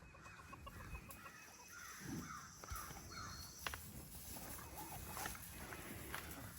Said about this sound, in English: what is wrong with those crows?